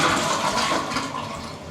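A short, smaller flush of a train toilet in Rome: a brief burst of rushing water lasting under two seconds, fairly close and steady before tapering slightly.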